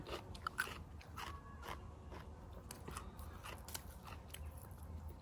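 Chewing on picked rusty lettuce greens dipped in Thai shrimp paste sauce, outdoors on a fine day: close, irregular crunchy bites and wet chewing with soft scraping, no talk.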